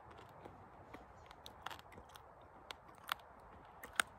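Someone chews a chili flavor eel snack on a trail hike, producing faint, close, irregular bites and small crunchy clicks against quiet background, with no talking.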